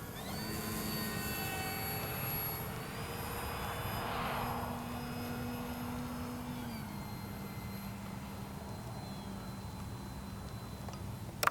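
Avios Kobuz 2.2 m RC power glider in flight, a faint, steady electric motor whine holding one pitch, then dipping lower partway through as the throttle changes, with no talk.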